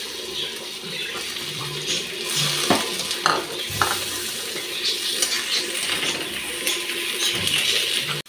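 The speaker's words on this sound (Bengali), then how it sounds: "এখন টমেটোটা দিয়ে দিচ্ছি।" Tomatoes added to half-fried onions and green chillies in a pan, for a Bengali tengra fish curry, make a steady close sizzle with a few sharp clatters of ingredients and utensils.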